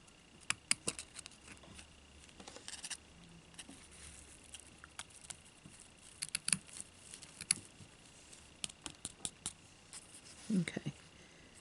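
Small scissors trimming loose fuzzy fibres hanging over a vintage spoon bird's nest ornament, soft scattered snips and rustles, close and faint, with brief clusters of clicks.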